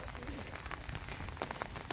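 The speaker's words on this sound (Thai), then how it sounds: "ถ่ายบรรยากาศให้เบิ่งพี่น้องทงไฮทงนาฝนตกเนาะ" Steady rain patters on open rice fields nearby, a dense, even hiss of drops with no voices.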